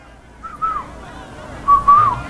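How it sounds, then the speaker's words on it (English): A person whistles two short rising-and-falling phrases at a political meeting in Tobago, the second louder and longer, over a low background murmur. "I'll whistle"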